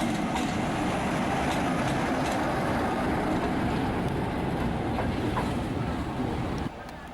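A steam locomotive on a heritage railway rumbles steadily nearby as it runs around its coaches at a station, a continuous heavy roll with faint rhythmic clatter, dropping away slightly near the end.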